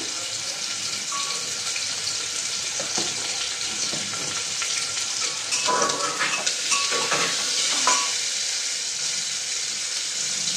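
Vegetables frying in a pan before meat is added, a continuous close sizzle with intermittent scraping and stirring clatter, growing slightly busier midway.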